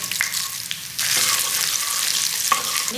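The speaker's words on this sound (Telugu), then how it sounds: "ఆయిల్ వేడికాగానే మనం ముందుగా కట్ చేసి పెట్టుకున్న పచ్చిమిర్చి వేసుకోవాలి" Green chillies, peanuts and moong dal crackle and fry in hot oil for ivy gourd fried rice, a steady sizzle that jumps louder as more goes into the pan, with a few sharp pops and spoon scrapes.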